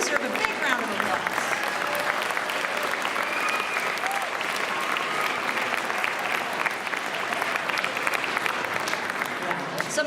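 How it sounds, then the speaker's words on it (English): Sustained applause from a concert audience after a Halloween concert piece, dense and steady clapping filling the hall for the full stretch without a break. "they deserve a big round of applause"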